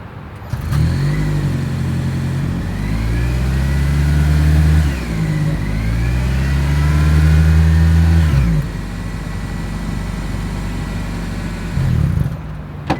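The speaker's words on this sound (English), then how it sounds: "As always, here is that exhaust clip." A 2025 Toyota Camry hybrid with dual chrome exhaust tips idles, then revs twice in long rising and falling sweeps, settling back to a steady idle, recorded close and loud with no voices.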